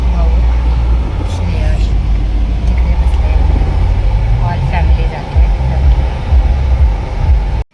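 A family rides in a borrowed four-wheeler car on a hot day, the engine and road rumble steady and loud throughout with the low drone of the moving vehicle filling the cabin.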